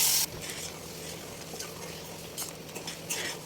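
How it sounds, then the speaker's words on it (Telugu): A utensil stirs wheat rava (semolina) as it cooks in a pan. Soft scraping and clinking strokes sound at irregular intervals over a low, steady background, fairly quiet with no talking. "కలుపుకుంటూ ఉండలు కట్టకుండా కలుపుకుంటూ ఉడికించుకుందాం"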